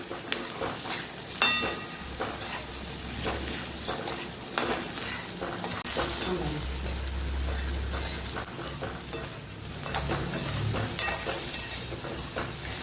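Fenugreek masala is stirred into gunda sambharo in a sizzling pan, giving a continuous frying hiss with scraping and stirring strokes close by. No one speaks.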